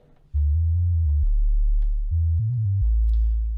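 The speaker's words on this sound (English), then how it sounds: "It's nothing more than a sine wave." A deep sine-wave sub bass synth in Ableton plays sustained low notes that step between pitches, smooth and humming with no other instruments.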